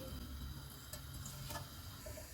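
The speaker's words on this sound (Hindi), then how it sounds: "ऑयल गर्म हो गया, इसमें साबुत मसाला डालेंगे।" Whole spices dropped into hot oil in a pan for Indian aloo pulao, a faint, steady sizzle with a few light clicks and ticks, no talking.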